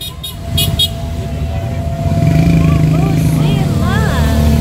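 Car horns toot amid loud road traffic and engine rumble on a busy street in the Philippines, a few short beeps early, with voices and other sounds mixed in, as motorists honk in an anti-corruption protest.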